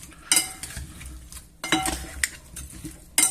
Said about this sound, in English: And give it a good mix.